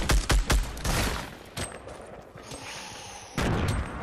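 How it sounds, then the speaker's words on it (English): A grenade explosion and gunfire in a video game: several sharp, loud bursts at the start, then a rumbling tail and another heavy blast near the end. "That's a grenade."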